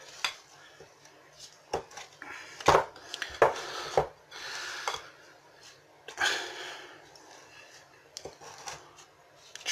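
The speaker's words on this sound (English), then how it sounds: "So just keep mixing all that together with your spatula, folding it all in" A spatula stirs and folds cookie dough with white and dark chocolate chips, oats and raisins in a bowl, giving soft uneven scraping and thudding strokes with occasional sharper knocks against the bowl, fairly close.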